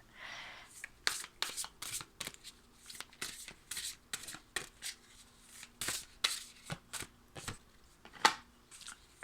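Oracle cards are shuffled by hand in a long run of quick, crisp riffling and slapping bursts, close and moderately loud, with brief pauses between handfuls.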